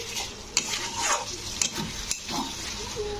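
Chickpea and potato curry with cashew paste, made without onion or garlic, being stirred and sautéed in a pan, with a steady soft sizzle under repeated scraping and spoon-on-pan knocks.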